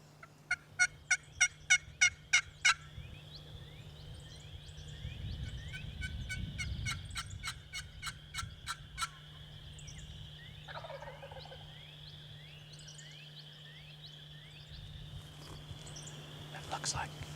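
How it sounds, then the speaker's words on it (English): A wild turkey gobbles at the edge of a field, a rapid burst of loud, sharp repeated calls early on, then more distant gobbling and bird chatter over a low steady hum, with quiet voices in the background. "luckily the gobble was on the edge of our field"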